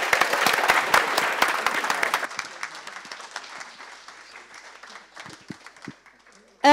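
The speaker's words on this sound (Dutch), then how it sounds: "Applaus!" Closing applause from the audience at a Science Café evening in The Hague on space, loud dense clapping for about two seconds, then thinning into scattered claps that taper off, with a sharp sound at the very end.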